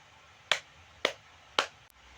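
Three sharp claps in quick, even succession, close and crisp, followed by a faint click, with no talking.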